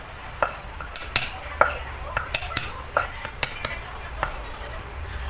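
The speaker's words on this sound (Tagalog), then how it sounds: "slice ko lang yung bawang ng pino" A knife slices garlic finely on a cutting board, giving a run of close, sharp chopping taps at an irregular pace, with a voice faintly present under the cuts.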